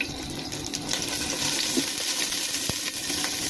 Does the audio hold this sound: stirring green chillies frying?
yes